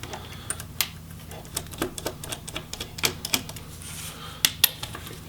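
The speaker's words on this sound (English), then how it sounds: "Remove the 3 screws from each side and remove the hinge" Screws are taken out of the hinges of an Asus ROG GL502VY laptop during disassembly, giving a run of small, sharp, irregular clicks and ticks close by on a quiet background.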